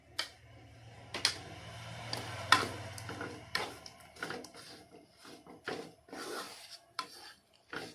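Date palm jaggery and milk powder stirred continuously in a pan, giving a steady scraping, rasping rub with irregular clinks of the utensil against the metal, close and moderately quiet, with no talking.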